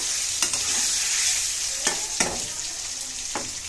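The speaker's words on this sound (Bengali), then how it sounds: "প্রথমে দারুচিনি আর তেজপাতা ফোড়ন দিছি আর জিরে ফোড়ন দিছি" Whole spices such as cinnamon, bay leaf and cumin sizzle in hot oil in a pan for an egg curry, a steady close frying hiss broken by a few sharp stirring clicks and scrapes, with no talk.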